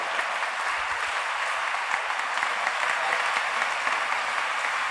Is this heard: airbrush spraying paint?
no